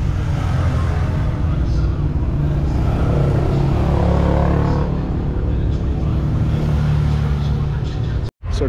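Vintage motorcycles race around a festival track, their engines droning loud and continuous from a hillside vantage point. A voice speaks over the steady roar, and the sound cuts out abruptly near the end.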